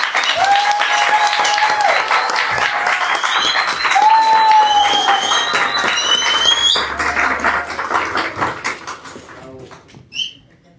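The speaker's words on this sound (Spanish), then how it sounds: "Le vamos a dar un fuerte aplauso a esta mujer" Audience applause at a feminist talk on judicial reform, sustained loud clapping mixed with music and cheering that thins out and fades toward the end.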